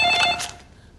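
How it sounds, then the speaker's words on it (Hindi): A telephone bell rings in a short, loud burst of rapid trilling tones that cuts off and fades into quiet. "अरे फोन मत उठा यार"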